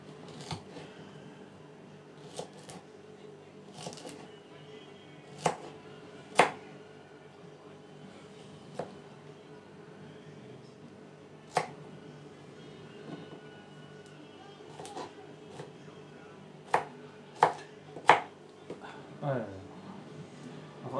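Beef being chopped for chilli beef soup, sparse sharp knife strikes on a board scattered irregularly over a quiet kitchen background, with a few louder chops near the end.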